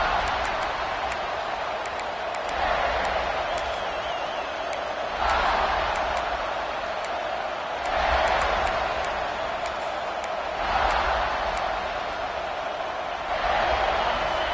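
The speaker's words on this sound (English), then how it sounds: "This crowd, full throat, splitting the eardrums and letting them know it's going to be a long day" Stadium crowd at a USC vs Oklahoma State football game, a broad sustained roar that swells in several loud surges every few seconds over constant crowd noise, with no voices standing out.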